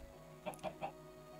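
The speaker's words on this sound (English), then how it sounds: "Oh, there's the chicken." Three quick, soft clucks from a chicken in the Minecraft Farming Valley modpack, evenly spaced in a short burst over a faint steady game background hum.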